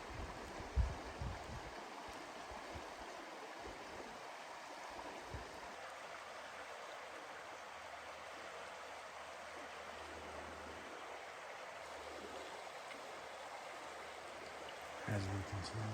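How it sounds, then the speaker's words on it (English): The Little White Salmon River flows with a steady broadband rush of water, constant and moderately close, while a voice talks faintly over it. "The beautiful Little White Salmon River."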